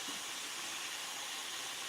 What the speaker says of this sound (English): I got my zucchini frying in a frying pan with the squash and the onions.